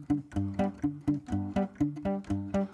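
Guitar fingerpicked: a steady alternating thumb bass with chord plucks on top, in a bouncy, even rhythm, close and moderately loud, with no voices.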